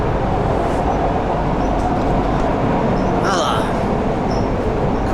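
Steady loud rumble of a commuter train rolling out from Penang Bazaar, a continuous low roar with faint squeals and no distinct voices.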